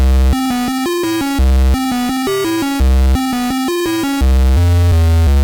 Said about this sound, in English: Bit crusher or distortion to give it some spice.